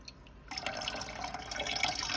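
Beef stock poured through cheesecloth over a tea strainer, a faint, steady trickle and drip of liquid close by, continuing without talk.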